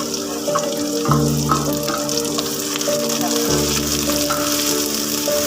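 Chopped tomatoes sizzle and crackle steadily in a hot pan for fish curry, with occasional stirring scrapes and a low hum in the background.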